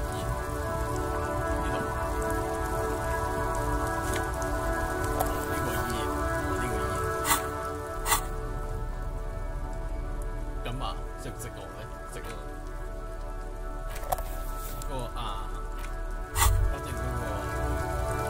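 Rain patters steadily through the Disco Elysium video game world with occasional sharper drips and clicks, while a voice speaks over it.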